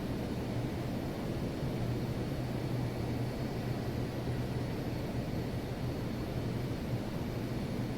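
Inside an airliner on landing approach to Dulles Airport with flaps deployed, a steady broadband roar of engines and airflow fills the cabin evenly, with a faint low hum beneath.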